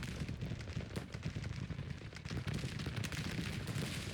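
Massed musket fire from troops in a Civil War strategy game, a faint, continuous crackle of scattered distant shots with sharper pops, no speech over it.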